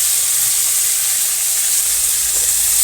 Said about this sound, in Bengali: এখন লাল লাল করে ভেজে নেবো